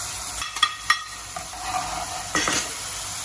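Rice wine, mirin and soy sauce hit a hot pan in a soy garlic shrimp dish and sizzle in steady hissing bursts, with a few sharp clinks of stirring, close and moderately loud.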